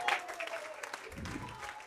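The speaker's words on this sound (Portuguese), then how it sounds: "Aplauda, aplauda, aplauda." A church congregation at a revival service claps in a brief burst of quick, scattered applause, with a voice calling out over it.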